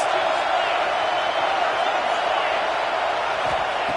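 Stadium crowd roaring for the defense on a big third down at an Ohio State versus Alabama college football game, a dense continuous wall of cheering with no breaks.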